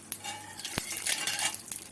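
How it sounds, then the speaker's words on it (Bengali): Nigella seeds frying in hot oil over low heat alongside charred dried chilies, a close crackling sizzle with clinks of a spoon against the pan scattered through, no speech. "কালো জিরেটা একটু ভাজা ভাজা করে"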